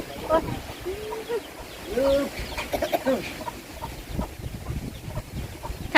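Chickens clucking at a farm out in the rice fields on a windy day, with scattered clucks and short calls over wind noise and someone talking in the background.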